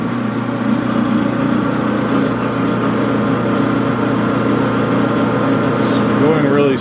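A metal lathe turns a wheel casting for a Raritan riding car at its slowest speed, 70 RPM, while being hand-fed gently. It gives a steady, continuous mechanical hum with a low tonal drone throughout, and a brief higher squeal near the end.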